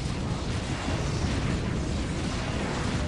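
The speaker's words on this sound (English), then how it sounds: "Got a huge Plague Grenade been thrown right in the middle of these guys there." Plague grenades burst in a Dawn of War battle, a dense, continuous roar of overlapping explosions and rumbling booms filling the whole stretch at a steady level.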